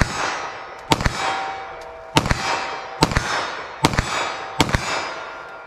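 Shots from a 9mm pistol ring out one at a time, about five sharp loud reports spaced roughly a second apart, each trailing a short ringing echo, with no talking.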